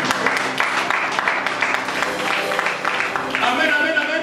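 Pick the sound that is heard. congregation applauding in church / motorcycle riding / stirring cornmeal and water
congregation applauding in church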